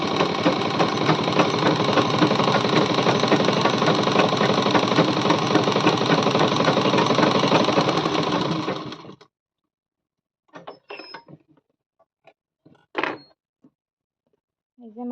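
A home sewing machine stitching fabric in a village home runs in a steady, continuous mechanical whir for about nine seconds, then stops, followed by a few faint clicks and handling noises.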